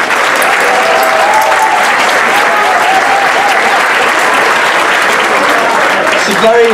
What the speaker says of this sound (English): So a round of applause one more time for Elle.